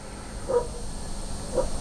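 Dogs bark in the distance, two faint separate barks about a second apart over a steady background hum.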